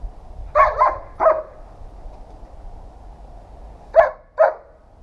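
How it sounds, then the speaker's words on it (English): A protection dog gives its playful bark: a quick cluster of three sharp, close barks, a pause of a few seconds, then two more clear barks, with no voices. "which is kind of his play bark"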